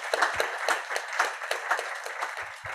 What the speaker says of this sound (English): I want to give us a big applause for our panel